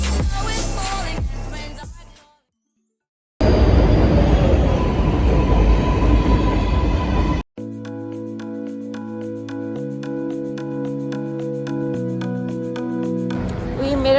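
Loud rumble of a New York City train ride, broadband roar and rattle for several seconds, then a cut to quieter steady tones with voices talking over them.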